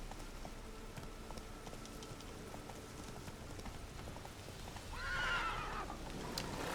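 A horse whinnies in The Witcher 3, a single rising neigh near the end over a steady bed of rain and outdoor game ambience.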